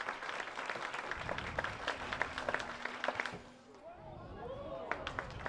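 A crowd at an athletics championship applauds with a steady patter of claps, fairly distant and moderately loud, while a commentator talks over it.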